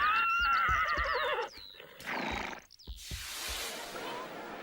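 Racehorses, like those in the Kentucky Derby, neighing loudly and repeatedly up close, with faint hoofbeats and rushing noise underneath.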